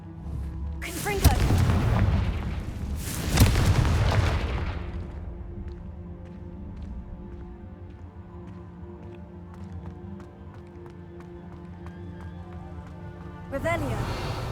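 A Confringo spell explosion in Hogwarts Legacy: two heavy booming blasts with a rumbling tail in the first few seconds, then a low sustained in-game hum with faint ticks, and another burst near the end.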